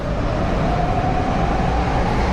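Old go-kart engine at a redneck kart race, struggling against tight clutches with a steady, dense rumbling drone and faint popping throughout, continuous and fairly close, with no voices.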